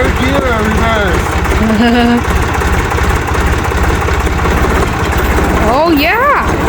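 A Ditch Witch machine's engine runs steadily in reverse gear, a loud, continuous low rumble throughout, with a voice speaking over it near the start and again toward the end.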